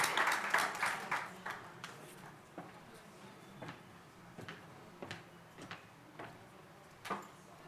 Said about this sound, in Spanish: Un aplauso para Lisa también y a nuestros panelistas.